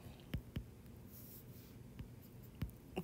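A pen writes on paper in a different color: quiet, soft scratching strokes broken by a few light taps as the tip meets the page. It is faint and close, with no talk.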